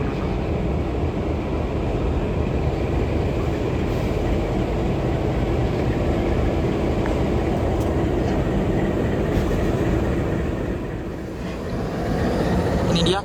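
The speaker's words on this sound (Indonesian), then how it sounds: "Ini dia kereta api Arjuno Express dari Surabaya Gubeng menuju ke arah Malang." The Arjuno Express passenger train from Surabaya Gubeng toward Malang, Indonesia, rolls past with a steady, broad rumble of wheels on track, loud and sustained before easing off near the end.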